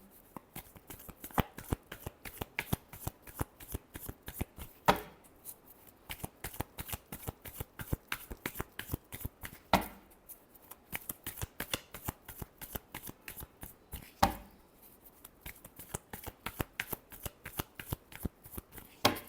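Tarot cards are shuffled by hand in a long, steady series of close, crisp riffles and flicks, soft overall with occasional louder snaps.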